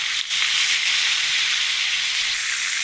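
Fish sizzles steadily in hot oil, a loud, continuous frying hiss close by with no voices.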